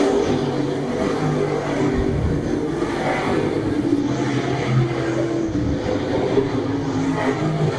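Late model race cars roaring around Brighton Speedway, a steady loud engine drone with revving swells as the pack passes, continuous through the whole stretch with no break.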